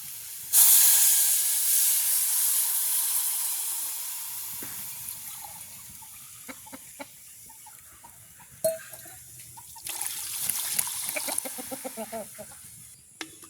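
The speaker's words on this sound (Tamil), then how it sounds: "நல்லா கொதிக்கட்டும் தண்ணி" Water boiling, with a loud steady hiss of steam that starts suddenly and slowly fades, plus faint bubbling and scattered small clinks.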